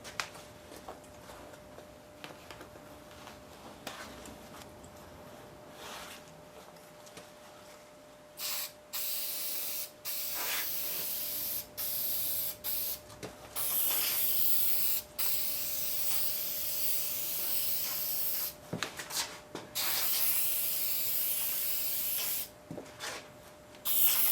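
Steady hiss of an aerosol can of 3M General Purpose 45 spray adhesive, long continuous bursts broken by brief pauses, close and fairly loud.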